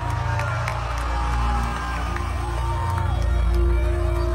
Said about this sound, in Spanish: ¡Fuerte aplauso para Silvestre!